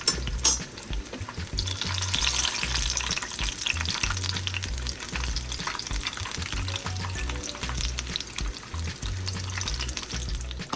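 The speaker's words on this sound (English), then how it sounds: "So you want to fry your dumpling for about 2 to 3 minutes per side on medium-high heat." A dumpling stuffed with ackee and saltfish fries in hot oil over medium-high heat, giving a loud, constant sizzle with crackling spatter and some low bumps from the pan all the way through.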